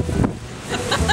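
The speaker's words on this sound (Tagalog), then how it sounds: "Sa sobrang lakas ng hangin, pati yata buhok na tangay." Strong wind buffets a handheld microphone outdoors, a loud, rough roar that gusts and swells unevenly over the short moment.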